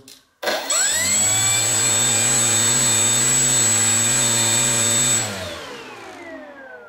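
An electric motor on a Talon UAV model aircraft spins up and runs steadily with a strong, even whine for about five seconds, then cuts off and winds down, loud and close with no talk.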